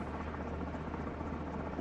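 Steady, dense rotor and turbine roar of an MH-60 helicopter in Microsoft Flight Simulator 2024 plays continuously at an even level, with no talk.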